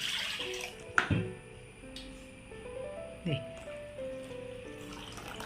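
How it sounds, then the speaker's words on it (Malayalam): Water pours and trickles into neer dosa batter with a rising, filling tone, broken by a couple of soft knocks and drips. "നിറച്ച് വെള്ളം ഒഴിച്ചു"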